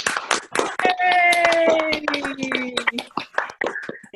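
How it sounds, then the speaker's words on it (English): Applause comes through a video call as participants unmute for a round of clapping, scattered claps mixed with overlapping voices and cheering. "give Rajiv a round of applause for keeping us all together"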